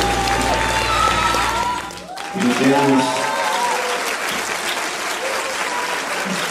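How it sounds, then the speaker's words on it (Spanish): An audience at an anniversary event for a Puebla teen radio station applauds and cheers, a sustained crowd roar of clapping beneath an announcer speaking Spanish over it. "Un aplauso, un aplauso."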